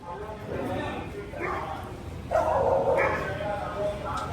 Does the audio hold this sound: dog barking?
yes